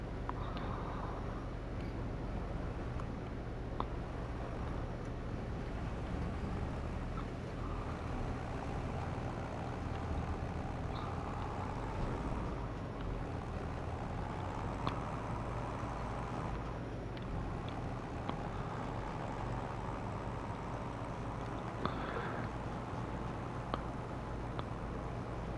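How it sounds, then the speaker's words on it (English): A tractor engine labours under load while pulling a trailer in Farming Simulator 25, a steady low drone with a constant hum that runs unbroken and fairly loud throughout. "This trailer is definitely making this tractor put in work."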